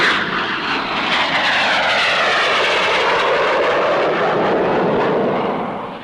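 English Electric P1 fighter jet powered by Rolls-Royce Avon engines roars loudly and steadily, a broad continuous jet rumble with a shifting whine as it passes close by, filling the whole stretch with no voices.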